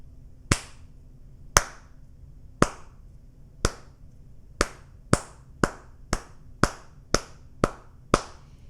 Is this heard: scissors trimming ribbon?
no